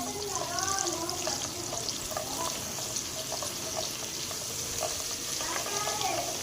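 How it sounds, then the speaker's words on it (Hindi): A teaspoon of garlic paste roasts in a pan for Chinese-style vermicelli, giving a soft, continuous sizzle with faint stirring clicks, close but low, while a voice talks over it intermittently. "लहसुन का पेस्ट जाएगा इसमें 1 चम्मच, हल्का सा इसे रोस्ट करेंगे।"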